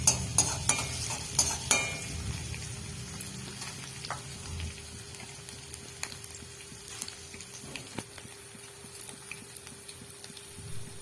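Chopped ginger and garlic sizzle in hot mustard oil in a pan, with a few sharp stirring scrapes at first, then a steady quiet frying hiss.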